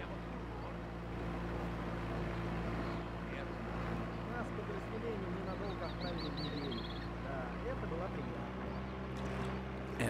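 Low steady drone of a boat engine in the Sniper Ghost Warrior 2 video game, a continuous rumbling hum under faint bird chirps and quiet spoken dialogue.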